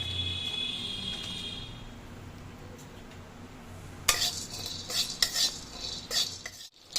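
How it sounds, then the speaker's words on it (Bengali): Cubeb (kabab chini) dry-roasting in a pan for biryani spice mix: a faint steady hiss at first, then from about four seconds a burst of close scraping and rattling as the spice is stirred, no talk. "এবার কাবাব চিনিটা ভেজে নেব। এটা গোলমরিচের মতো একইভাবে ভাজতে হয়।"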